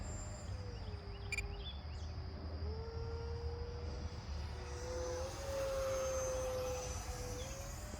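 A radio-controlled Arrows F-86 Sabre model jet flies in calm air, its steady whining tone drifting slightly in pitch as it banks, heard from a distance over a low outdoor rumble with no talk.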